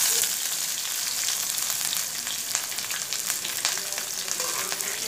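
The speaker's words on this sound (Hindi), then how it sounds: "इस स्टेज पर इसमें प्याज अदरक और लहसुन डाल दूंगी मैं अपना।" Onion, ginger and garlic fry with coconut in hot oil for Nagpur-style tari poha, a steady close sizzle with faint crackles that runs continuously and alone.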